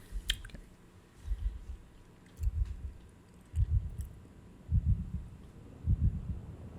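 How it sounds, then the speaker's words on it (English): Soft, low heartbeat pulses open a song, a slow, regular double thump repeating about once a second and growing a little stronger. "I can hear a heartbeat."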